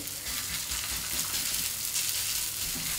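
Minced meat and cabbage patty fries in a hot wok, a dense, even sizzle filling the whole short stretch at close range with no talking.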